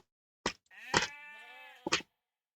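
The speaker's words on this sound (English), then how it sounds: "I would kill the sheep" A video game sheep gives a single wavering bleat, loud and close and clearly pitched, bracketed by short sharp hit-like bursts before and after.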